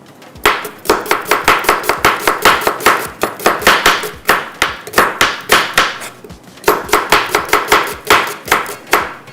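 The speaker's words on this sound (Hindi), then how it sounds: "चलें जी, प्याज को कटिंग करते हैं।" A knife chops onions on a cutting board in quick, steady bursts of loud, crisp knocks, with brief pauses between runs.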